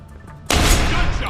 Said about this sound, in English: Gunshots!